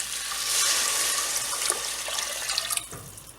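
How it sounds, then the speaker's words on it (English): Water poured into a pan of moong dal khichdi, a steady gushing splash that swells and then thins toward the end, close and fairly loud, with no talking. "I'll add water to it."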